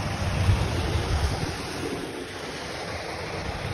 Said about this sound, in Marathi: वॉटरफॉल बघा कसं आहे तुम्ही.